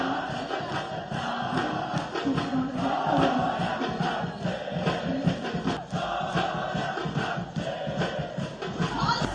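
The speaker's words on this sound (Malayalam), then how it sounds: "നിറഞ്ഞ ആരവത്തോടെയാണ് ആരാധകർ മലപ്പുറം എഫ്സി താരങ്ങളെ വരവേറ്റത്" Fans of Malappuram FC welcome their players with a dense, continuous crowd roar and shouting that swells and dips but never stops for the whole stretch.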